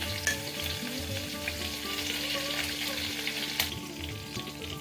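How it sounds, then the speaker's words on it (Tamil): Mustard seeds, cumin and curry leaves sizzling in hot oil in a pan, a steady close frying hiss with scattered small pops and a sharp crackle now and then, no voices. "கடுகு பொரிஞ்சதும் சீரகம் போட்டுக்கலாம்"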